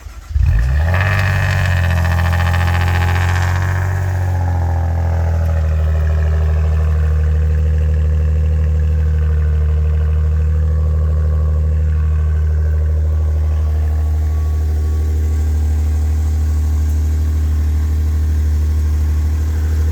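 A Maserati Levante SUV engine idles steadily up close after a brief rev at the start, a low, even rumble holding for the rest of the stretch.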